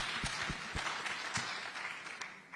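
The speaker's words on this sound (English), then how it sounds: "let's clap for her." A modest round of applause at an ICT summit, scattered hand claps heard close by with a few distinct sharp claps among a fainter crowd patter, fairly quiet overall.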